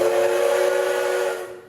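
The DT668 steam locomotive sounds its whistle in one sustained, loud, steady blast that tails off at the end, heard at a railway celebration marking a coastal line's centenary.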